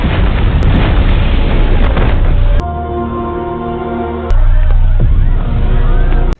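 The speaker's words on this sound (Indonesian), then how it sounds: "tiba-tiba terjadi sebuah ledakan yang menewaskan seluruh pasien beserta si dokter" A loud, roaring explosion in an Indian action film fills the scene with dense, sustained rumble; midway the blast drops back under swelling orchestral music before the roar surges loud again until an abrupt cut.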